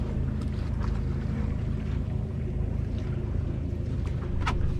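Small sailboat on open water in Florida winter conditions, a steady broadband rush of wind and water noise with occasional faint creaks and splashes from the boat as it turns through a tack.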